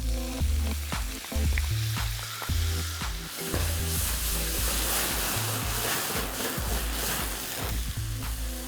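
Steady loud sizzling of tomatoes frying in a pan with golden onions, with frequent stirring clatter and scraping throughout, no voices.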